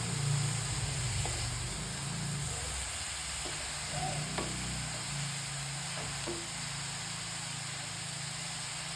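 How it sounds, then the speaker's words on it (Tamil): Spinach with masala sautéing in a pan for a greens kootu, a soft steady sizzle and hiss under a constant background hum, with a few faint stirring clicks. "இதையும் சேர்த்து நல்லா நம்ம மசாலா எல்லாமே கலக்கிற மாதிரி வதக்கி விட்டுக்கலாம்"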